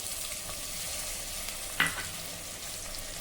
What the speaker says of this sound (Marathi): सर्व छान मिक्स करून घेऊ